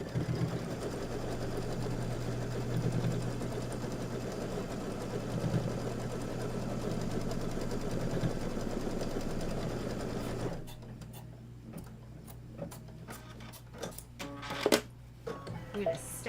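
A sewing machine stitching a Kimberbell autumn quilt hums steadily and close for about ten seconds, then stops, followed by small clicks and handling noises.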